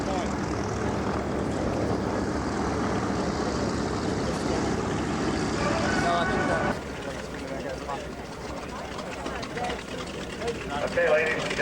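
A propeller airplane at an airshow drones steadily with a broad engine roar, dropping slightly in level partway through as it moves away, distant and continuous with no clear speech.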